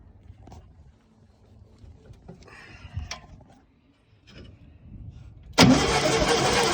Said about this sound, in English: And I've moved the distributor while I crank.